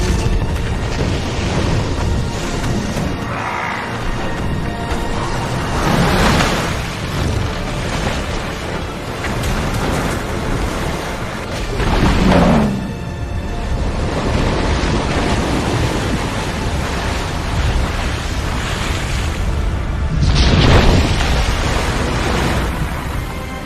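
Torrent of flood water bursting from a broken dam in a Lord of the Rings battle scene, a loud continuous roar with heavy booming surges and crashing waves swelling repeatedly, no talking.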